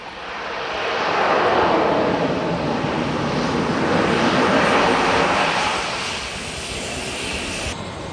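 Fixed-wing airplane landing on a cliff-edge runway in the Everest region with a tailwind, its engine roar swelling loud and steady, then easing slightly, with no voices.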